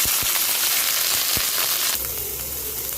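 Thai curry paste sizzles and crackles in hot oil in a pan, a dense hiss with sharp pops early on, then a steadier, slightly quieter fry.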